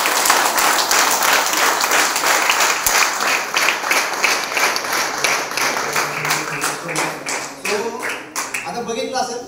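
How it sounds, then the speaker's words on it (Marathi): A seminar audience claps vigorously, with crisp, rapid hand claps blending into a loud, continuous wash of applause that gradually thins and turns more scattered toward the end, while voices are heard faintly alongside. "तुमच्यासाठी आता जोरदार टाळ्या होत्या"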